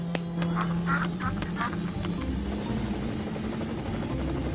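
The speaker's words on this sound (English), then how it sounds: "Let's board to the helicopter." A continuous low rotor-like drone with a buzzing hum and scattered squeaky, quacking cartoon noises over it.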